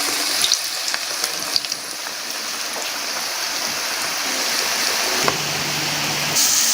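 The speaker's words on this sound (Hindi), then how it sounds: "हमारी कढ़ाई में घी गर्म हो गया है। अब हम इसमें पकोड़े फ्राई करेंगे।" Pakoras fry in hot ghee in a kadhai, a steady loud sizzle and crackle that runs unbroken throughout, with a few sharper pops and no talking.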